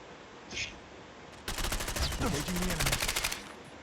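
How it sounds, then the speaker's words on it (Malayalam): Gunfire from the video game Call of Duty Mobile comes as one long rapid automatic burst lasting about two seconds. It follows a brief faint sound and quiet. "എനിമിക്ക് വെടിവെക്കാൻ അറിയാം."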